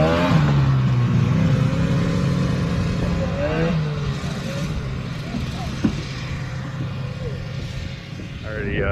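A 1971 TNT 340 single-cylinder vintage snowmobile engine runs close by, a loud, continuous buzzing drone with shifting pitch that dips and rises through the clip.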